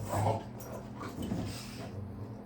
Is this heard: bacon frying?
no